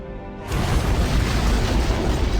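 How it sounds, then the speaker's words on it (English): A loud antimatter-charge explosion in a Halo: Combat Evolved cutscene bursts in abruptly after a brief quieter moment, then settles into a sustained, rumbling roar of debris and low booming that fills the rest of the scene. "It must have been one of their boarding parties. I'd guess an antimatter charge."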